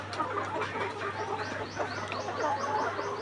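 Layer hens about 160 days old cluck and chatter continuously on a poultry farm, a dense flock of overlapping calls over a steady low mechanical hum.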